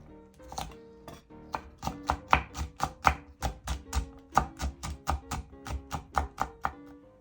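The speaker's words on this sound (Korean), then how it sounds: "고추는 반으로 잘라 다져주세요." A knife chops halved chili peppers on a cutting board, about twenty crisp, evenly spaced close knocks in a steady rhythm.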